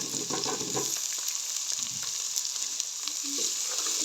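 Finely chopped onions fry in oil with garlic, ginger and green chillies for a brinjal bharta, giving a steady bright hiss with a few soft stirring scrapes early on, close and unbroken.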